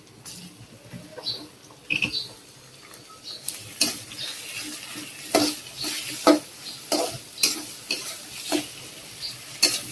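Dried fish sizzles in a pan with onion, garlic and chili while a spatula scrapes and stirs in repeated close, uneven strokes over a steady frying hiss.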